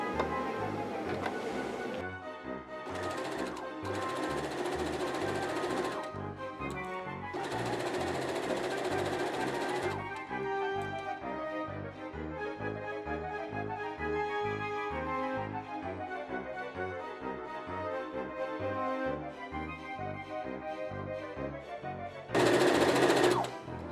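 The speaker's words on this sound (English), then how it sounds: "I want to go through and sew the rest of it down" A sewing machine stitches down a fabric strip for a bowed scrunchie in steady mechanical bursts that stop and restart several times, with a brief louder burst near the end.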